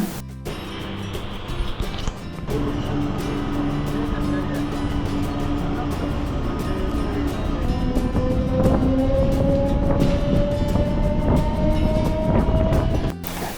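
A train on the Tiruvannamalai to Chennai Beach route rumbles along the rails near Tiruvalam with a steady loud roar and rising whine, clattering throughout, with a sharp jolt near the end.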